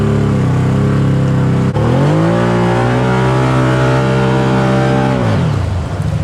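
A Can-Am Maverick Turbo side-by-side revs hard climbing a muddy hill, its engine note rising after a brief dip then holding a loud, steady high drone before dropping off.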